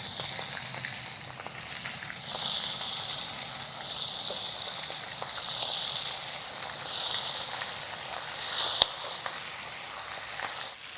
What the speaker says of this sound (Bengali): সেই মাংসকে ভেজে নেব